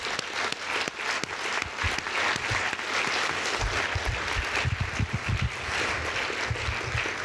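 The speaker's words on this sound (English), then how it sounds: "Let's give a round of applause to all the candidates." An audience claps steadily for the candidates at a mayoral forum on urban agriculture in Minneapolis, with sustained applause filling the room at close range and no talk over it.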